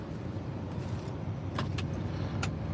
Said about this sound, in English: Another truck coming around.